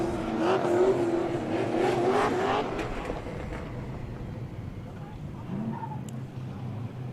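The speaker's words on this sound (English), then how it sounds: "our next two drivers are warming up their tires" Drift cars at a drift challenge event warming up their tires, with a loud, sustained engine roar and revving, a faint tire squeal later, all heard at a distance under crowd ambience.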